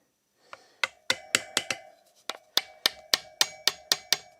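Repeated sharp metallic taps of a pointed tool being driven into a fork seal on a BMW GS1200 Adventure motorcycle, roughly a dozen close, loud strikes in an uneven rhythm with brief pauses, no talking.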